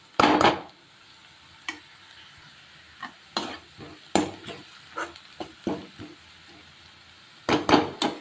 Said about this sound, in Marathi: तर कांदा चांगला फ्राय झालाय